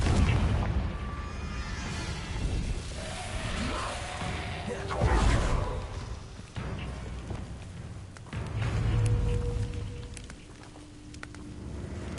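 A Confringo spell blast in a Harry Potter video game sets off deep, rumbling booms and fiery bursts, with crackling debris and softer echoing blasts fading afterward.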